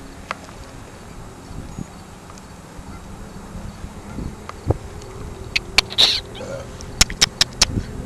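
Birds call outdoors in short, sharp chirps and squawks, sparse at first, then a quick cluster of bright calls near the end over faint background noise.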